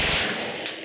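Gunfire at an outdoor firing range in Calumpit: a single loud, close blast with a brief echoing decay.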